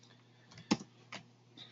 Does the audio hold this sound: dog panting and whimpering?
no